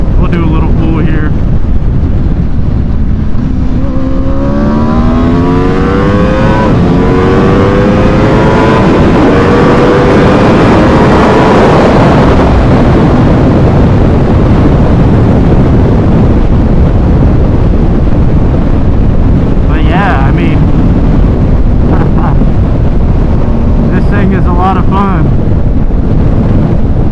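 An Aprilia RSV4 Factory sport motorcycle engine revs up hard, its pitch rising sharply over several seconds through a loud rush of wind, then settling into a steady roar.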